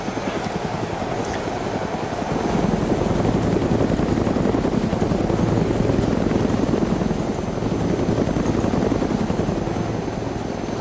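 Helicopter in the video game DayZ, a loud, steady rotor chop with rapid rhythmic blade thumps and engine whine, swelling slightly louder midway and holding close throughout.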